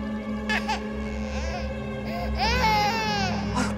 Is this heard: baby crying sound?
yes